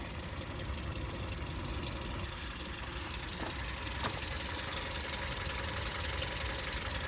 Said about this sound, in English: it's still running, that engine is. It's very smooth.